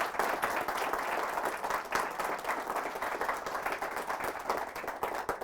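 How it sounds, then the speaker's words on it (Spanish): A church congregation at a healing Mass bursts into loud, continuous clapping in praise of Jesus of Nazareth, crisp individual claps blending into an even roar that holds for several seconds. "Fuertes aplausos a Jesús de Nazaret"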